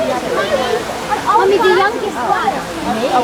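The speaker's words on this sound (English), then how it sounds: "This is the calming waterfall segment, in which we watch waterfall for 10 seconds." A waterfall at Animal Kingdom rushes as a constant broad roar, with people talking over it the whole time.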